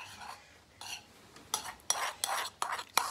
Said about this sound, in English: I'm just gonna mix mine up.